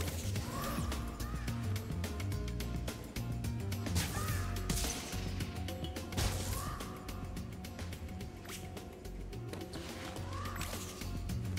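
Crow-like caws repeat every couple of seconds in Spyro the Dragon, over a steady bed of game music and mechanical clatter, loud and close throughout.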